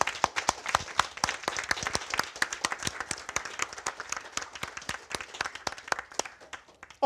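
Applause from the audience at a Lua conference round table in Moscow, a dense, steady patter of many hands clapping close by for about seven seconds before it tapers off, with no talking.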